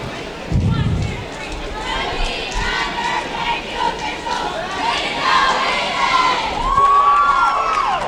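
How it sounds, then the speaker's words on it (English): A crowd of high school girls cheers and shouts together at an indoor swim meet, loud and echoing, with whoops and rising calls throughout and voices talking within the noise. "Nice cheer there from the Strath Haven girls."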